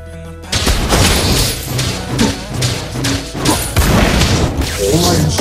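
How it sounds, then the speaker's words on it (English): Loud, dense game explosions and crashing booms as a turret is destroyed in the mobile MOBA game, with heavy thuds continuing throughout and game voices mixed in. "You destroyed the turret!"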